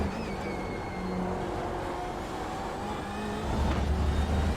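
BMW M8 GTE race car in the iRacing simulator at Sebring, engine accelerating hard down a straight, a steady droning roar with rising pitch and a deeper surge toward the end.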